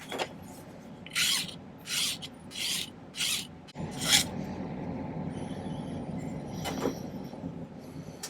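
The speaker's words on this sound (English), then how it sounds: "And then we'll file off the excess." Metal file rasping excess silver off a handmade pillow ring during silversmithing, five distinct close strokes in a steady rhythm followed by a longer drawn stroke, with a low background hum and no talking.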